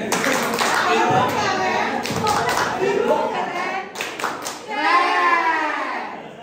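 A group in an Indonesian school teacher training session performs the 'tepuk keren' clap routine, with rhythmic patterned clapping blended with voices chanting or calling along.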